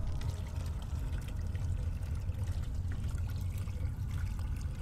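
Water pours steadily from a barrel in the Amnesia horror game, a soft, continuous trickling stream with no talk.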